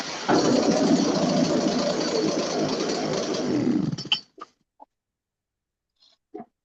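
Small chainsaw engine with a freshly installed carburetor kit and no exhaust gasket, revving loud and steady for about four seconds and then cutting off, followed by a few brief faint clicks and knocks.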